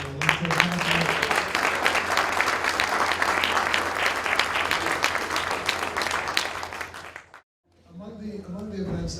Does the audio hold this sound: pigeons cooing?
no